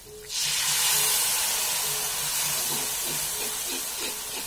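Spiced water is poured over browning onions in a hot pan for a chicken curry cooked over fire, bursting into a loud, steady hiss and sizzle that stays strong and close for several seconds.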